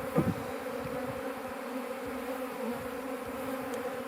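Honeybees from a swarm buzzing in a dense, continuous drone, close and steady throughout, with a brief thump near the start and no voices.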